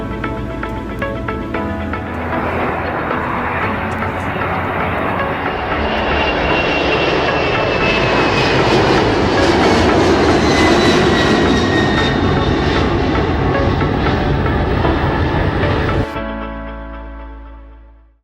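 Engines of a Singapore Airlines Boeing 737 MAX 8 in Star Alliance livery, simulated in the game SimplePlanes, roar steadily and loudly, swelling in the middle with a rising whine before cutting off abruptly near the end.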